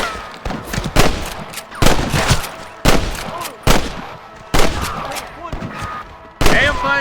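Gunfire in Red Dead Redemption, loud separate bursts of shots every second or so with echoing tails, mixed with shouting and game sounds between volleys.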